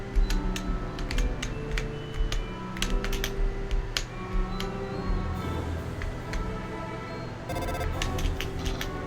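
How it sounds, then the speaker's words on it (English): Computer keyboard typing during an Undertale play session, a steady run of light rapid clicks with brief pauses, fairly close and alone with no talk. "Sorry if you hear my keyboard, by the way."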